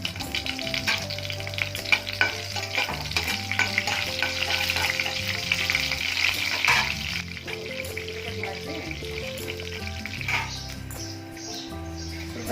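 Urad dal, mustard seeds and cumin sizzling and crackling in hot oil for a tempering, a loud continuous frying hiss with popping under steady background music.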